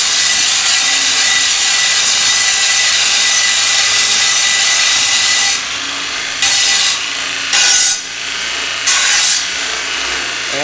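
An abrasive grinding noise from a coarse belt grinder working a piece of aluminum, loud and continuous, with several short dips and surges as the piece is pressed and lifted toward the end; no voices.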